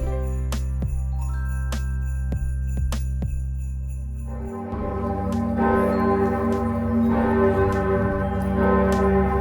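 Large bells of St. Peter's Cathedral in Bremen, Germany ring out loud and resonant, single strokes at first, then a full overlapping peal of many bells with long ringing tails.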